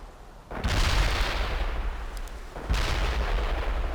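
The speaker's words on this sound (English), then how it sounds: "Mortar strike requested. Firing away." Mortar strike fire in a video game combat scene: a heavy, rumbling blast roars in loudly at half a second and sustains, followed by a second booming barrage near the three-second mark, with no talk over it.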